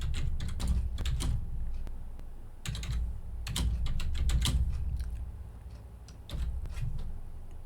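Text is typed on a computer keyboard in quick irregular bursts of clicks separated by short pauses, close and clear with no talking.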